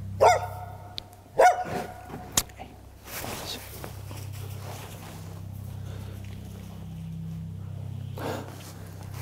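A hunting dog driving game during a ewe hunt in the mountains gives a few sharp barks near the start. The barks then give way to a steady low rumble of wind or engine noise.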